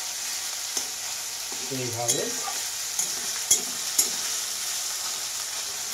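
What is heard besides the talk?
frying tomatoes and onions in a pan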